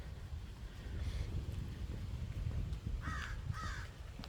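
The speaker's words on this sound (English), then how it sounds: "These little blackbirds over here." Small blackbirds calling outdoors, a couple of short harsh calls near the end, faint and distant over steady wind rumble.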